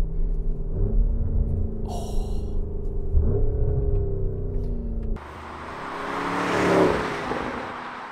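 A 2024 Porsche Cayenne Turbo GT accelerates hard. Its engine drone rises steadily from inside the cabin, then the sound shifts abruptly about two-thirds of the way through and surges again into a louder roar.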